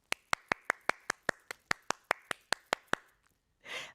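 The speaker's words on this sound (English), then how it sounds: "let's give a round of applause to all of our honorees" Applause for hall of fame honorees at an induction ceremony, heard as about fifteen sharp, evenly spaced claps, each loud and close, ending with a short breathy burst of noise.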